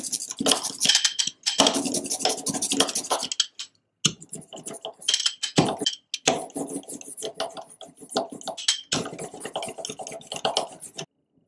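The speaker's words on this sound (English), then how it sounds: "One last time, scraping the ink." Printing ink is scraped across a surface for a linocut print, producing close, dry, gritty scratching strokes in rapid bursts with a few short pauses between passes.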